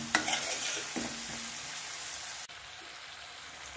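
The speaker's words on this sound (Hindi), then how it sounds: "अब टमाटर को थोड़ा सा पकने देंगे।" Chopped tomatoes with salt and turmeric cook in a pan for a pea curry, giving a soft, steady sizzle with a few light stirring scrapes, faint and close, with no talk.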